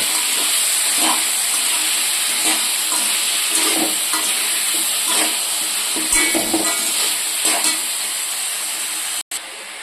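Colourful mixed vegetables fry in a pan for kurma kulambu, giving a loud, continuous sizzle broken by repeated scraping stirs of a spoon, with no talking.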